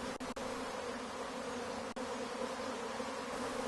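A migratory honeybee swarm drones in a steady, dense buzz that holds without a break, close and continuous, with no voices over it.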